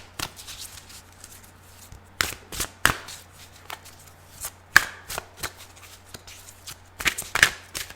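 Mystical Wisdom and Angel Answers oracle cards are shuffled in a quiet room, giving a series of crisp riffling bursts and soft slaps, with sharper snaps near the start, middle and end and a low steady hum underneath.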